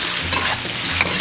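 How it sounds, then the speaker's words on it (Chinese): Radish stir-fried in a wok with shrimp, dried scallops, dried shiitake mushrooms and crispy pork lard, giving a loud, close, steady sizzle with the scrape and toss of stirring and no voices. "先给它翻炒均匀。"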